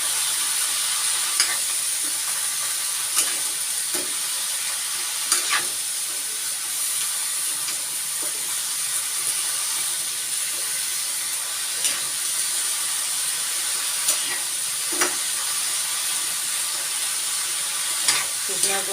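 Capsicum vegetable dish frying in a pan gives a soft, constant sizzle and hiss with occasional light stirring clicks, steady throughout and unaccompanied by voices.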